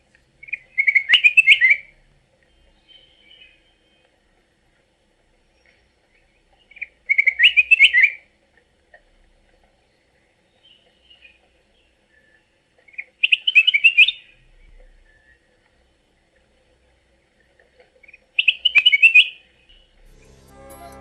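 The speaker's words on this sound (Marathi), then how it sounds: "बुलबुल आपल्या गोड आवाजाने आणि मोहक हालचालीनं जंगलाच्या सौंदर्यात भर घालणारे" A black-crested bulbul in scrub forest sings four short, bright phrases spaced several seconds apart, each one clear against an otherwise quiet background.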